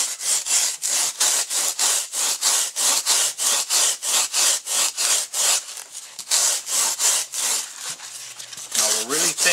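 A foam fish form for bass taxidermy is being rasped and thinned down with loud, close back-and-forth strokes. About twenty strokes run in a steady, quick rhythm with no talk over them.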